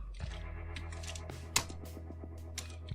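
Light keystrokes tap out code on a computer keyboard in a quiet room, with irregular clicks and one sharper key hit.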